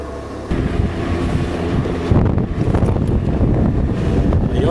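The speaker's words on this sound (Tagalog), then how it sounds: "Ang problema lang may hangin na malamig." Cold wind buffets the microphone outdoors during a motorbike ride, a loud, constant rumbling roar with gusty swells and no talking.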